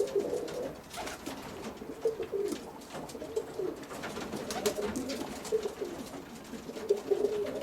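Roller pigeons coo steadily in a loft through a continuous, moderately close stream of low murmuring calls with no speech.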